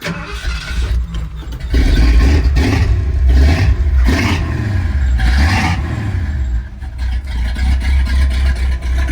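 A 1978 Ford F100 V8 with a four-barrel carburetor cranks, catches and roars to life, revving loudly a few times before settling into a rough, rumbling idle.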